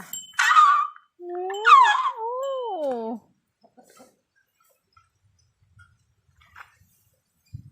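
A single chicken calls out with a few rising and falling clucking notes lasting about three seconds, then near silence with faint small knocks.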